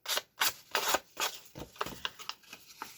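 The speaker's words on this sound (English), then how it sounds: "I'm just going to sand off my burrs." Sandpaper rubbing burrs off the freshly cut edge of a banded tag, a series of close, rasping strokes in uneven bursts, louder at first and then shorter and lighter.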